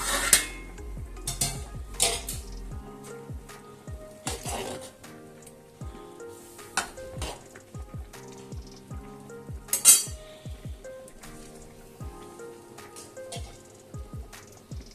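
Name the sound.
pot being covered with a lid while cooking vegetables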